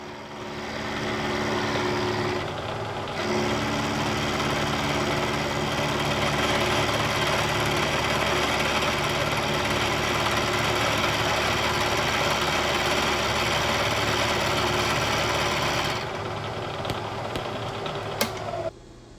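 A K&T 2HL knee milling machine cleans up a standoff for a DRO scale. Its steady motor hum grows louder and denser for about thirteen seconds, then drops back to a quieter idle.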